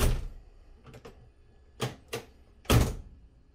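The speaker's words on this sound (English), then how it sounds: "Shut the door." A Mustang's car door closing: a few soft knocks and clicks, then one firm, loud thud, close by with no talk.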